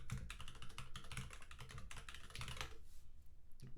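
Rapid typing on a computer keyboard during a programming class, a quick, steady patter of clicks with short pauses, close and fairly quiet, with no talking.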